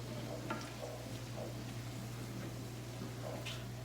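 Sugar being stirred into cabbage and noodles cooking in a pot, a soft scraping and swishing of the spoon under a steady low hum and faint sizzle, quiet and close.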